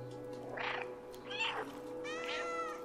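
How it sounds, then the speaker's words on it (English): A cat meows three times in the video game Stray, each call a short, clear mew set apart by brief pauses over a steady, low ambient hum. "There's a mew button, meow button."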